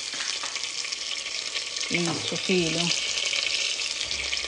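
Chicken frying in a pan on a home stove: a constant loud sizzle and hiss fills the scene, close up, while a voice speaks briefly over it.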